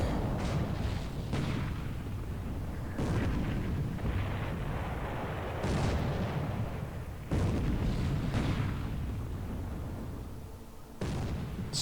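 Repeated heavy booms of naval gunfire in the video game War in the Pacific, several big blasts at irregular intervals with rumbling tails, loud and continuous, no talking.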